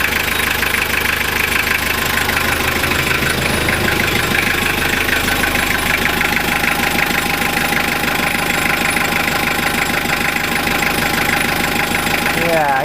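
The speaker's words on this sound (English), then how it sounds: "it just sounds like he's got a bit of a diesel crack to it." A rebuilt Toyota 5L diesel engine runs close and loud, a steady crackly diesel clatter with knocking that continues without a break for the whole stretch.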